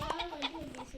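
Chicken clucking inside a Roblox video game, a short run of close, repeated clucks with a harmonic, voice-like quality filling the whole second.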